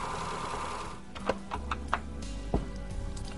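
A sewing machine stitching a quarter-inch seam in fabric for a holiday table runner, with a low steady motor hum and a few sharp mechanical clicks and ticks, close by.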